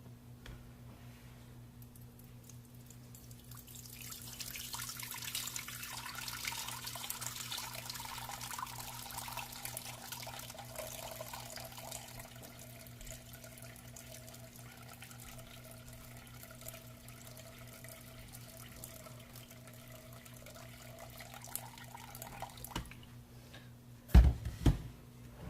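Water streams from a tap into a bowl in a long, steady pour of 700 grams for sourdough that tapers off, followed by a few sharp clunks near the end.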